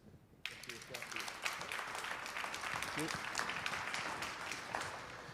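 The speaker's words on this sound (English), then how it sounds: "we'd like to make a big round of applause for Ian Lane" Sustained applause from an audience at a live student innovation pitch event at a Northern Ontario college, a dense steady patter of many hands clapping that starts abruptly and continues throughout.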